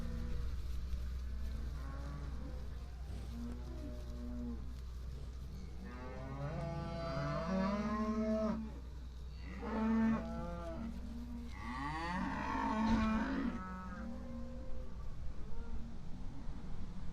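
Beef cattle at a feedlot, several loud drawn-out moos rising one after another over a constant low engine-like hum in the background.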